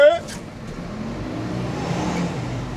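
Garbage truck crawling along a sheet of ice during freezing-rain waste collection, its engine a steady mid-pitched drone that swells slightly, heard up close with a brief voice at the very start.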